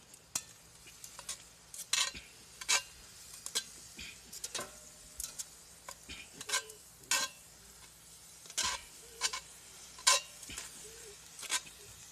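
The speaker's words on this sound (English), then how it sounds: "I'll stir it up a little bit" Food cooking in a pan at a campsite is stirred in short, repeated scrapes and clinks of a utensil, each stroke distinct over a quiet, faintly sizzling background.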